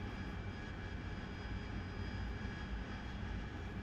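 Harrier jump jet engine, heard in a cockpit at night, giving a steady loud broadband roar with a faint whine, continuous and close without distinct change.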